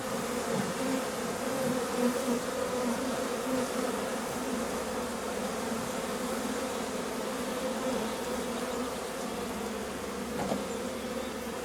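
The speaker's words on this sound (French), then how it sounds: "Je vais ouvrir la petite trappe du dessus pour pouvoir laisser les abeilles rentrer" Honeybees buzz steadily at an open hive as the beekeeper works the top hatch, a dense continuous drone of many insects close by with no talk over it.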